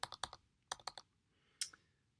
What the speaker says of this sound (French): Donc je tape son numéro